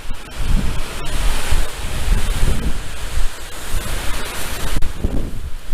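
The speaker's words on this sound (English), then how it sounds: "That's some strong wind right there." Strong wind gusting through trees and leaves during a New Mexico wildfire, a steady broadband roar with surging gusts buffeting the microphone throughout, loud and continuous with no talking.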